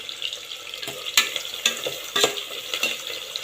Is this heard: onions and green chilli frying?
yes